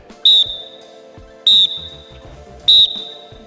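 A coach's whistle sounds three short, loud, piercing blasts at even intervals of about a second and a quarter during a football drill, with quieter thuds and movement between them.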